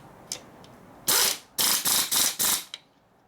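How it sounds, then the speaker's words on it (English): An air impact tool fitted with an extension hammers a bolt tight on a Chevy T5 non-world-class Borg Warner transmission being rebuilt, a few short clicks followed by one loud burst and then four rapid loud bursts, close up. "You have to know how much your air tool's torques, so you know what you're doing."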